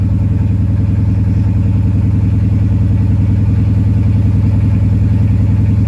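A Mercedes CLK55 AMG engine idles just after a cold start, a loud, steady low drone with a fine mechanical clatter that holds evenly throughout without revving.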